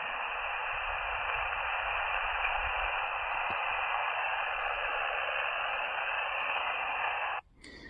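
An Elecraft KX2 portable transceiver on a foggy hilltop hisses with steady loud amateur-radio static and band interference, a dense even rush that cuts off abruptly near the end.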